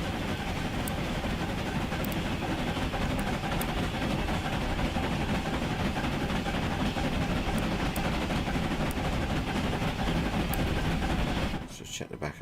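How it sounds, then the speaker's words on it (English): A steam train runs steadily close by, a loud continuous rumble and hiss with faint periodic clanks, holding constant before cutting off abruptly near the end. "Can you hear me okay over the steam train?"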